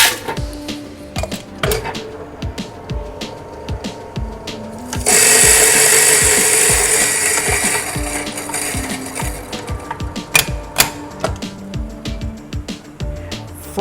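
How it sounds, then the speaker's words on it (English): Coffee beans being ground to a medium-fine size for an AeroPress brew, with a steady burst of dense grinding at mid-clip framed by scattered clicks and taps of handling before and after. "We're going to grind our coffee beans on a medium to fine grind size."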